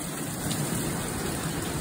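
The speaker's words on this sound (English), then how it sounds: "So here's the rain." Steady rain pours down in a storm outdoors around a grill, a dense, even hiss of drops on surfaces throughout, close and fairly loud, with no voices.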